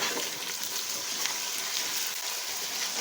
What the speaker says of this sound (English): So I'll now stir the pot.